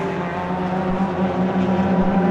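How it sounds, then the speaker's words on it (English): Race cars, including stock hot hatches and BMW Compacts, circulate at Rockingham, giving a loud continuous engine drone that holds steady throughout. "the stock hatch leaders, Paul Jarvis and Phil Law, catching one of the BMW compacts there"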